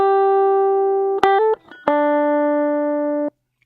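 Clean electric guitar notes ring out, one long sustained tone, a quick run of short plucked notes, then another long sustained note that cuts off into silence, played without distortion.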